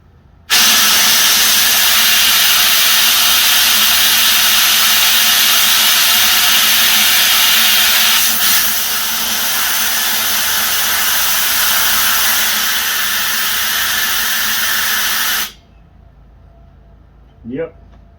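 Lawn mower engine running poorly, a loud steady hissing roar close by that drops away suddenly after about fifteen seconds, followed by a brief quieter noise.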